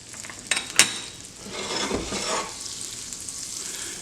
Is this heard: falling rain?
no